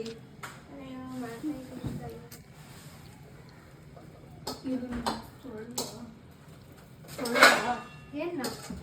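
Dishes and steel utensils being washed in a home kitchen, scattered clinks and clatters of pots and cutlery, with people talking throughout.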